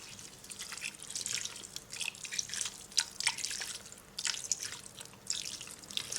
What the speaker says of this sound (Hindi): पानी पानी पानी, 3 कप पानी ऐड करेंगे।